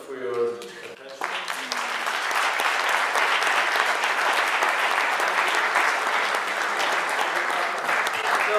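An audience applauds after a presentation, a dense, steady burst of clapping that swells in after a brief moment of voices and holds loud and even to the end.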